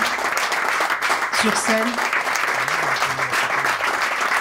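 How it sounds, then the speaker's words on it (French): Audience applauding musicians on stage at a live show, full sustained clapping with a few voices and a brief spoken remark over it. "Je vais vous demander d'applaudir encore tous les musiciens"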